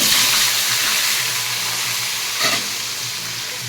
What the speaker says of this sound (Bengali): আলুটাকে আমি একটু নুন আর হলুদ দিয়ে ভেজে নিচ্ছি।